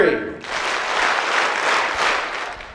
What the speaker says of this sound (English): when I count to 3, you clap 5 times